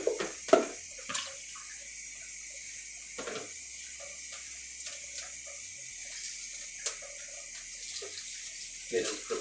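Tap water runs steadily over red potatoes being washed in a kitchen sink, a constant faint rushing with occasional splashes and knocks, while a person talks intermittently over it.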